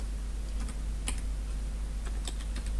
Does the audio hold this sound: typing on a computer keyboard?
yes